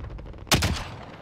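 A single sharp, loud shot from a sniper video game rings out close and reverberant, then trails off, with faint ambient game noise before and after.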